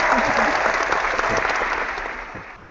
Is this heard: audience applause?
yes